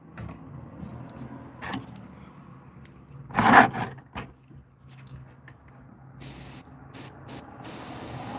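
Airbrush spraying paint onto a realistic bluegill fish lure, a steady soft airy hiss running through with one louder burst midway and short bursts near the end, no talking.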